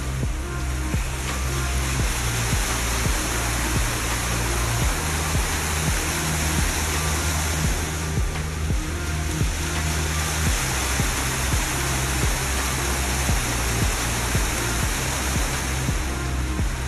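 Water splashes steadily at a fountain below the Burj Khalifa in Dubai, a loud continuous rushing spray with low rumbling underneath and no talk over it.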